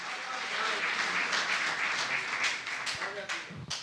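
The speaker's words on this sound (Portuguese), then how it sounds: "Aplaude o Senhor se você está contente com a graça." Church congregation applauding during a Portuguese-language service, a moderate wash of clapping with voices underneath that breaks into a few separate claps near the end.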